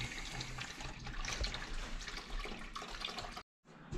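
Cold mains water rushes steadily through a domestic plumbing system after the supply is reopened during an oil boiler installation, a loud continuous hiss and gush that briefly cuts to silence near the end before resuming.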